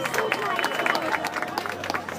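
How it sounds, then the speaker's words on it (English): A crowd at an outdoor protest in LA against Israeli collective punishment of Palestinians applauds a speaker, dense clapping mixed with cheers and crowd voices, close and fairly loud throughout. "Give him a big round of applause"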